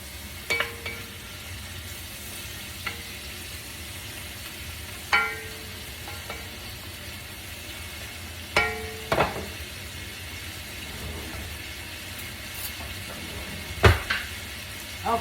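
Onions fry in a pan for Italian-style lentils, a constant soft sizzle broken by occasional sharp clinks and scrapes of a spoon against the pan, fairly quiet and close, with no speech.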